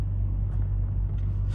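Heavy road traffic in Poland heard from inside a car: a steady low engine and road rumble with a faint passing whoosh or two, and no voices.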